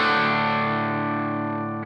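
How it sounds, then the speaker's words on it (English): A guitar chord through a Line 6 Vermin Distortion pedal rings out as one loud, thick, saturated sustained tone that decays slowly before being cut off. "turn off Effects Loop 1 and turn on the Vermin Distortion"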